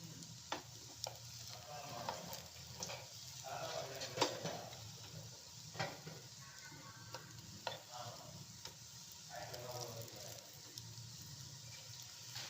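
Vegetable cutlets without onion or garlic fry softly in a pan, a low sizzle broken by scattered clicks and scrapes of a spatula as they are gently flipped, with faint voice-like murmurs in the background.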